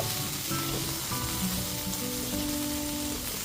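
Salt and sugar are stirred into a tomato masala for a potato and prawn curry, and a steady close sizzle of frying fills the pan, with a few soft stirring scrapes and faint tonal hums beneath, no talking.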